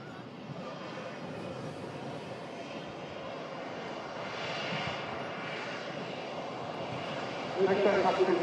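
An airliner taxiing at Manchester Airport, a steady distant engine whine and rumble that swells slightly near the end, with a voice talking over it.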